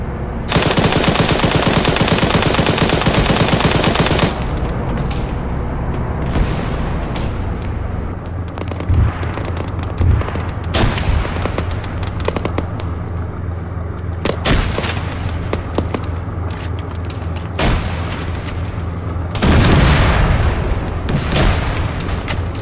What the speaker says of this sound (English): Who the fuck is throwing grenades?